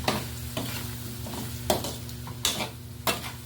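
Pork adobo with potatoes is stirred in a pan, repeated scraping strokes of a spatula over a low steady sizzle, close and fairly loud, roughly every half second to second, with no talking.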